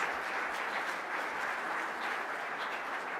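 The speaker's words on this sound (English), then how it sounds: "Let's give the choir another round of applause." A church congregation at Unity of Naples gives the choir a round of applause, a steady, even wash of many hands clapping at moderate volume throughout.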